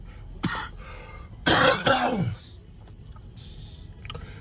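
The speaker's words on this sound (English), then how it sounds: "so I'm trying to fight this cough" A few rough, hacking coughs, one short burst followed by a louder double cough, close up with quiet room noise around them.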